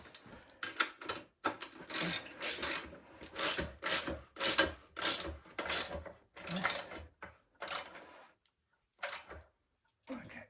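Rapid ratcheting clicks in uneven bursts, close and fairly loud, with short pauses between runs, as a ratchet wrench tightens hardware on an E&C ETM RTR 12-inch supermoto wheel set being installed.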